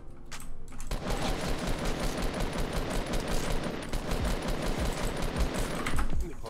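Rapid automatic gunfire in Fortnite, dense rattling bursts that run almost continuously after a brief quiet opening, loud and close with a slight swell near the end.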